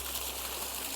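A small waterfall feeds a trickling stream in a steady, even wash of running water, close and continuous with no voices.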